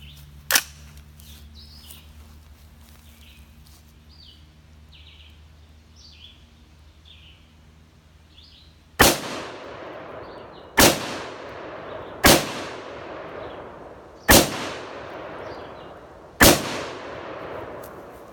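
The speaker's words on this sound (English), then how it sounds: "So we're going to go ahead and shoot the 308 first." Five loud, sharp rifle shots from a .308 fired outdoors during an armour shooting demonstration, spaced about one to two seconds apart, each with a ringing decay, after a quiet stretch.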